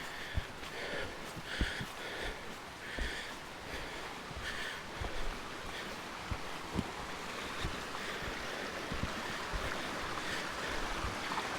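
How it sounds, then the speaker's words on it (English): Boulder Creek rushes along a mountain hiking trail as a steady broadband roar of flowing water, with intermittent bumps and footsteps over the constant wash. "Boulder Creek making all this noise in here."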